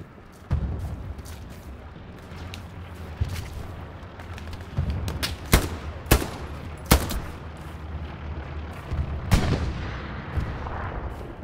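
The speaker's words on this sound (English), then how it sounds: "Where's that MG shooting from?" Gunfire in the WWII shooter Hell Let Loose, with a machine gun firing from a building among scattered sharp shots and distant booms, irregular loud cracks over a low rumbling battlefield bed.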